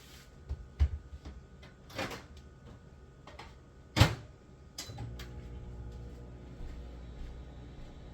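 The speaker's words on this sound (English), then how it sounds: "Stick this in the microwave for 3 minutes." Food being put into a microwave in a home kitchen: a few clunks and thumps, a sharp door-latch click near the middle, then the low hum of the oven starting, close and fairly quiet.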